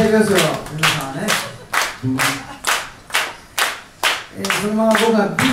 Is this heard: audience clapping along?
yes